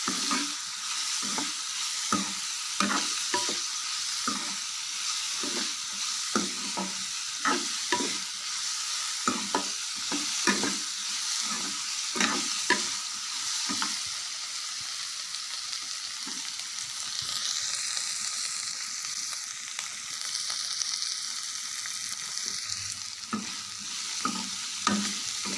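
Ridge gourd peel sautes in a pan for chutney, a steady sizzle under repeated scraping stirs that come in a loose rhythm and then ease off toward the end.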